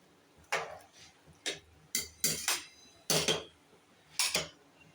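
Biryani ingredients with ghee stirred in a pressure cooker, a series of distinct metallic clanks and scrapes from a ladle against the pot, close and irregular, about eight knocks with quiet gaps between.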